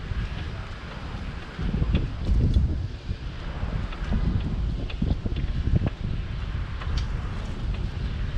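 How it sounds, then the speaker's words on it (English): Wind gusts buffet the microphone while cycling along a bike path through a Brooklyn neighborhood, a loud, rumbling low roar that swells and eases unevenly throughout with no speech. "A little bit of wind today in spots."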